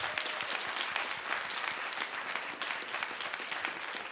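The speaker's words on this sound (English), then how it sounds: "let's give our panel a round of applause" An audience at a new-media panel event claps for the panelists, a loud, dense and steady round of applause from many hands, continuing evenly throughout.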